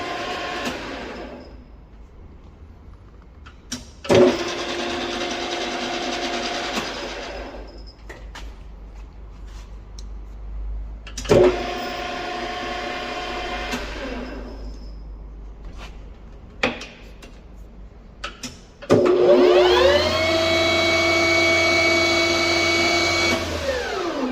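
A small precision lathe spins up in separate bursts, each a steady whirring hum with a bright whine, separated by quiet gaps and small clicks.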